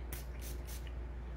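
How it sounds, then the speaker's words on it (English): Makeup setting spray misted onto the face, three quick pressurized pumps in a row, each a short airy hiss, close to the microphone with no talking. "I'm going to spray it"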